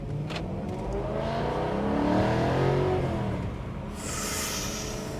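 A 449 bhp BMW M3 saloon, about ten years old, revs up loudly and close, its engine note swelling to a peak and falling back before a brief hiss near the end.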